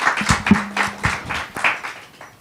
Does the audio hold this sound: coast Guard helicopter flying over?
no